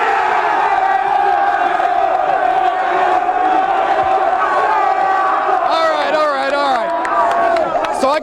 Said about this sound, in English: How about we stop shushing and cheer a little bit?